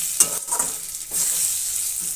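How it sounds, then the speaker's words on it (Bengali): Dal fried in a pan is stirred, a few short scraping strokes over a soft, constant sizzle, close and clear with no voices. "এবার ডালটা দিয়ে একটু নাড়াচাড়া করে দেবো।"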